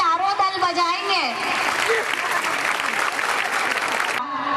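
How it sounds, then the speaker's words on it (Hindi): At a school annual function, a short stretch of speech gives way to a dense burst of clapping from the assembled student groups, which holds steady for about three seconds before stopping abruptly. "जोरदार तालियां चारों दल बजाएंगे"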